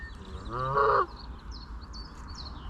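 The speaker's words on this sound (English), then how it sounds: "Go away, goose." A single loud Canada goose honk, a short run of nasal calls lasting about half a second, then only faint outdoor ambience and distant chirps.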